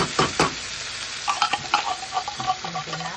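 Onion and garlic sautéing in a pan as ingredients are added and stirred, with a steady sizzle broken by repeated scraping and clinking stir strokes near the microphone.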